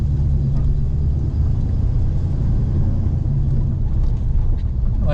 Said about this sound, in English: Car idles very smooth.